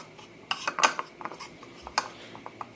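A utensil stirring cayenne, sweet paprika and ground pepper seasoning powders together in a bowl for a seafood boil: quick, close clinks and scrapes of metal against the dish, irregular taps over a quiet background.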